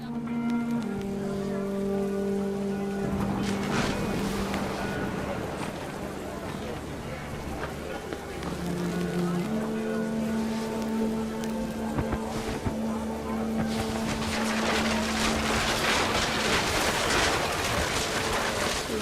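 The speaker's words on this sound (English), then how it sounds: "The rain came down in buckets then" Heavy rain pours steadily in the video game What Remains of Edith Finch, a dense hiss that swells louder toward the end, layered under sustained musical tones and a speaking voice.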